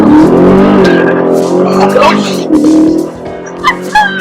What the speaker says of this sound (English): do a burnout over there